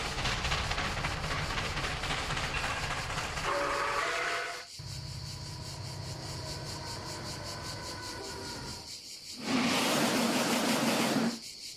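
Passing trains run steadily throughout, with rolling wagon rumble and clatter, and a loud whistle-like horn blast bursts in near the end.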